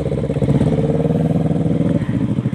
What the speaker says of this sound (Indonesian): harus netral dulu ketika kita mau starter dia guys